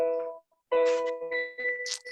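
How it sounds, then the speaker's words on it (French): A notification chime sounds during an online webinar: a clear tonal ding rings, pauses briefly, then returns as a brighter multi-note sequence of sustained tones, with no talking. "Ah, je donne une sonnerie."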